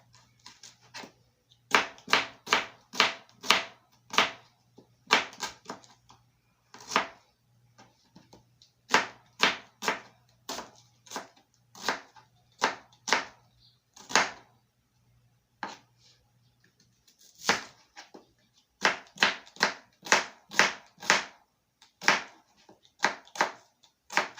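Onion being sliced with a knife on a cutting board, a long run of crisp, evenly spaced chops in quick bursts with short pauses between, close and fairly loud, no talking.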